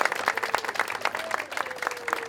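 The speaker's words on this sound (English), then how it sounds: "That deserves a round of applause." Crowd applause from a large audience at a 250th anniversary national celebration, dense steady clapping with scattered cheers lasting a couple of seconds, moderately loud and close.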